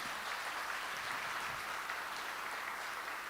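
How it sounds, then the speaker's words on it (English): Audience at the Airtel 5G network launch event clapping, a dense, even roll of applause sustained throughout, somewhat distant and uniform with no speech over it. "I think that deserves a big round of applause"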